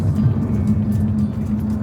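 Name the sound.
Jaguar F-Type engine cutting out at speed limiter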